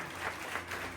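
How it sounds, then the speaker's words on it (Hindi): Faint, steady applause from a crowd at a police constable selection award ceremony in Gopalganj, welcoming an inspector, distant and continuous with no clear individual claps. "मैं चाहूंगा कि इनके लिए जोरदार तालियों से स्वागत हो।"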